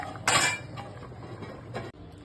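A lid clatters onto a cooking pan holding fried fish for doi katla, a sharp metallic clank up close followed by a softer second rattle as it settles.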